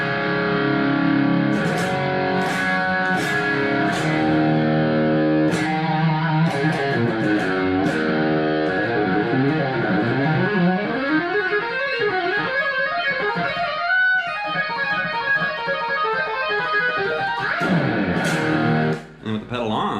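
Electric guitar with a phaser pedal switched off, playing a busy, slightly distorted riff and then sliding, bending lead lines, loud and close with no talking.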